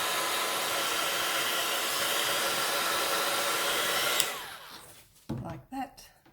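A hair dryer blows loud and steady over a card coated in salvaged patina distress ink for about four seconds, then cuts off, leaving faint handling noises.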